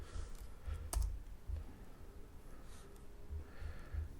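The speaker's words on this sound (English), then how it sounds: "I've got to learn how to type too." Computer keyboard typing at a desk, a few faint soft key taps in an irregular patter, quiet and close with no speech.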